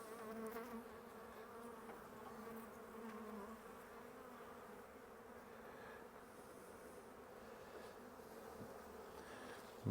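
Bees hum inside a full beehive during an inspection, a faint, steady buzzing drone that continues throughout.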